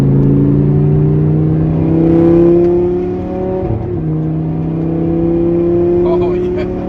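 A tuned Audi R8 with a modified exhaust revs up, its engine tone climbing and holding in smooth rising sweeps, loud and close, with a brief dip midway.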